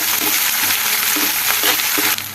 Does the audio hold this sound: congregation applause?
no